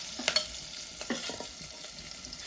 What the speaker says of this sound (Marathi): कारण ते तेल नाही तर उडत राहिलं असं फटफटा